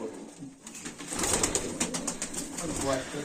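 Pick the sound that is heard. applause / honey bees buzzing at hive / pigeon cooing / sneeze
pigeon cooing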